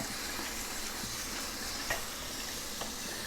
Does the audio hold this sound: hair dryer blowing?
no